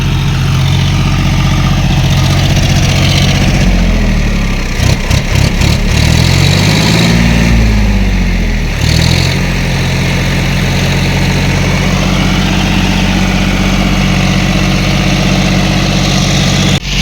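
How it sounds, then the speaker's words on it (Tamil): A tractor engine idles and chugs steadily at a brick kiln while mixing mud, a loud, close, continuous low rumble with slight shifts in load around the middle, and no talking. "அந்த சேத்து அந்த மண் மேலே தான் சேரை குழப்புது டிராக்டர்."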